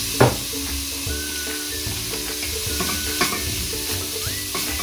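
Cabbage fries in a pan with green pepper for a vegetable Spanish omelette, giving a loud, continuous sizzle and crackle close by, broken by stirring clinks and scrapes.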